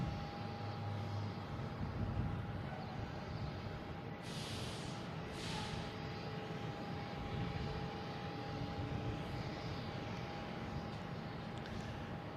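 A Virgin Atlantic airliner approaches to land at Boston Logan, a distant, fairly faint engine rumble and whine that drones on evenly, with a couple of brief hissing bursts partway through.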